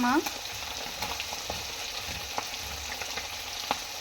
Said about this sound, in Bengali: তো এক এক করে মাছগুলো ভেজে নিচ্ছে